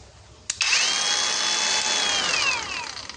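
A cordless BOERTE angle grinder switches on and spins up, holding a steady high-pitched whine at its lowest speed setting for about three seconds before beginning to wind down; loud, close and alone.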